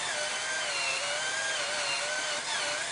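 A power drill whirs steadily with a high, continuous whine as it cleans the rusty core plug opening on an engine block, the pitch wavering slightly under load.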